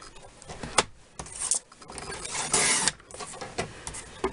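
A paper cutter slices a quarter inch off a sheet of 8.5 by 11 cardstock, giving short scraping, rasping strokes with brief pauses between passes, close and fairly clear, with no voices.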